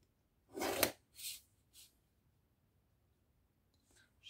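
Paper being folded and creased for a papercraft arcade cabinet model, a few short crisp rustles close by in the first two seconds, then near silence with a faint rustle at the end.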